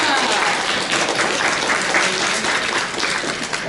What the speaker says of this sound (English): Can everyone give her a round of applause?